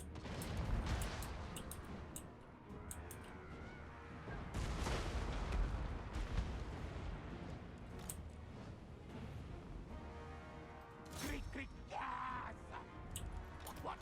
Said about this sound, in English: Stormvermin are getting hit right now by the siege weaponry